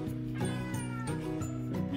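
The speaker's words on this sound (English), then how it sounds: "you guys can hear my cat in the background beside it being a drama queen" A cat meows repeatedly in drawn-out, insistent cries, loud and close, with no talking.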